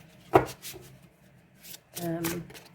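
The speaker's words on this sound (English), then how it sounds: "It shuffles really well." A deck of oracle cards riffled up close in two short bursts, a quick flutter early and a longer one near the end, with brief quiet between.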